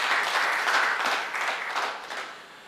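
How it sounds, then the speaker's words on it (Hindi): An audience at a Hindi poetry recital (kavi sammelan) breaks into a round of applause, with full, dense clapping that gradually thins and fades toward the end. "एक बार ताली बजाने दो"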